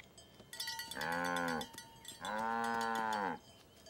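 Two long, loud cow moos, close by, each lasting about half a second to a second, separated by a short pause with faint farm background.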